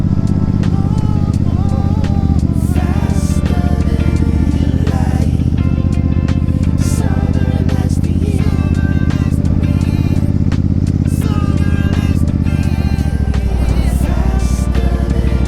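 Royal Enfield Super Meteor motorcycle riding out of Harshil Valley, a continuous loud engine drone with wind and music mixed over it, steady throughout.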